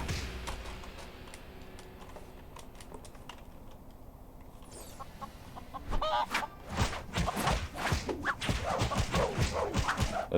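A chicken clucking in the Lego Ninjago Movie video game, quiet scattered clucks and clicky bursts that pick up in the latter half over a soft background hum.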